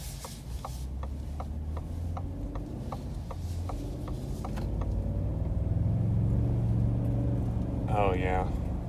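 A 2021 Ford F-150 pickup driving, its engine a low steady rumble that swells as it accelerates, with a regular ticking and brief talk over it.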